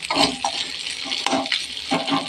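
Fish head frying in a pan for a home-cooked cabbage dish, with steady sizzling broken by a few stirring scrapes of a utensil against the pan, close and fairly loud with no talking.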